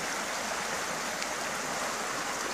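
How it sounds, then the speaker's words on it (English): A snowmelt-swollen creek overflowing its banks, a steady broadband rush of running water that stays loud and even throughout with no voices. "the water's overflowing because, hey, the snow's melted, raising the water tables."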